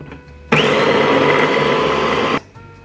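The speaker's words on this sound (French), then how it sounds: "Et maintenant, il n'y a plus qu'à mixer le tout." A kitchen blender whirs loudly for about two seconds while mixing a lunch dish, starting and stopping abruptly, with faint room tone before and after.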